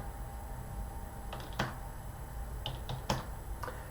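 A few quiet, separate key taps on a computer keyboard while a number is typed into a spreadsheet, scattered clicks over a faint room hum.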